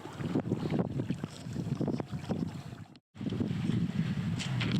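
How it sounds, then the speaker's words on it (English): A small dinghy motors ashore toward the pontoon at Dale, a steady outboard and hull wash close by with wind buffeting the microphone and a brief dropout midway. "We've jumped in the dinghy and we're going to head ashore."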